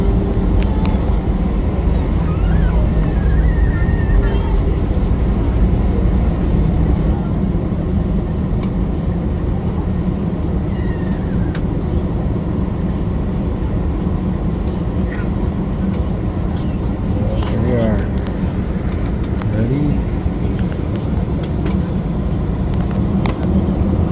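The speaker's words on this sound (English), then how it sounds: "Engines are being revved." An Allegiant Airlines airliner revs its engines before takeoff, a loud steady cabin roar with a low rumble that holds evenly throughout with no talk.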